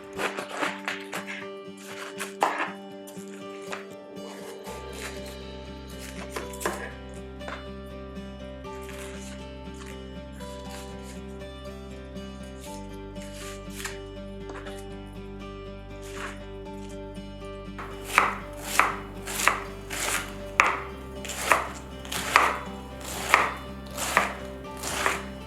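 A knife chops through a head of cabbage on a board, cutting off the stem and halving it: scattered light cuts early, then a quick series of sharp, rhythmic chops near the end, over a soft musical background.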